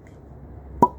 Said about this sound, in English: pause for the cork pop. Just pause and listen to it.